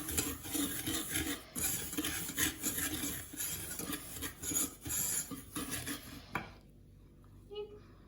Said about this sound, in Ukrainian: крохмаль, борошно, перемішуємо.